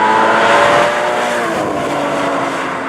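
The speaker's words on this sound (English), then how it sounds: "Sound is surprisingly good considering the motor's not that big and there's not really that much power." A Porsche Cayman GT4 on a back road gives a loud, close engine note that holds a bright, sustained tone while driving, easing slightly after the first second with no talking.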